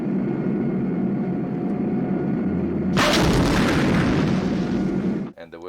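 A bus in a comedy film shoots off its tire for an automatic tire changer test, setting off a sudden loud boom and rushing blast that holds for a couple of seconds over a low rumbling background, then cuts off.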